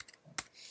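Several quick keystrokes on a computer keyboard while entering an FTP address during router setup, a short burst of close, crisp clicks with brief gaps between them.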